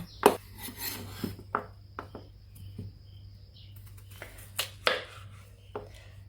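Potatoes being cut into fairly large cubes on a board for a lamb massaman curry, giving a series of sharp, irregular knife chops spaced across the clip, fairly close with quiet pauses between strikes.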